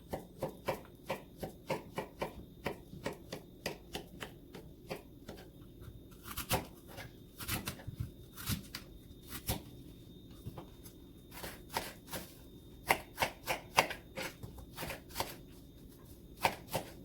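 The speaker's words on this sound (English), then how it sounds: "We are going to peel the apple and the banana and after slice them." Apple and banana are peeled and sliced in a children's cooking class, giving a long series of soft, quick knife taps and cuts on a board, near and fairly quiet, with irregular bursts.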